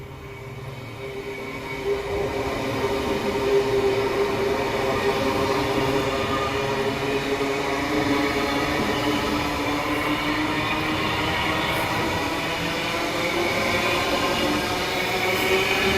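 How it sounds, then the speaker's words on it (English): Brisbane City and Manly train arriving at platform 1 of a Queensland Rail station, a steady rumbling roll with faint wheel whine throughout, moderately near and unbroken, with no voices over it. "The train arriving on platform 1 is the Brisbane City and Manly train running express from Eagle Junction to Bowen Hills."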